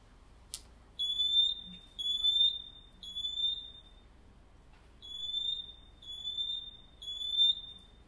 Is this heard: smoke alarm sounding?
yes